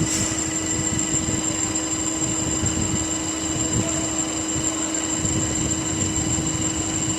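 An automatic CNC pipe and tube cutting machine made in China runs its saw blade, a steady close mechanical hum with a constant high whine and a low drone, even and unbroken throughout.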